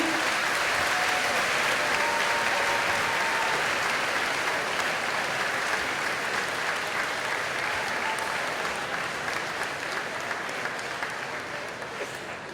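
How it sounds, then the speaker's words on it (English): A graduation audience at a high school ceremony applauds loudly, dense steady clapping from a large crowd that holds for several seconds and then gradually tapers off. "Let's have another round of applause."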